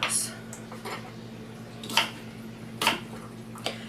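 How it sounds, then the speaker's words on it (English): Knife cutting apples into little chunks on a board, a few distinct chopping taps spaced about a second apart over a low steady hum, no talking. "And then I slice these up in little tiny"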